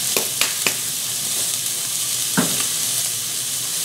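Steak searing in a Tfal Expert Pro stainless steel skillet gives a steady, close sizzle throughout, broken by a few brief clinks and scrapes of a utensil near the start and midway.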